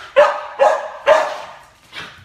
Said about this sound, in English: You can hear Steven greeting the dogs.